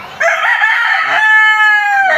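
A single loud rooster crow, close and drawn out, rising and then holding for about two seconds.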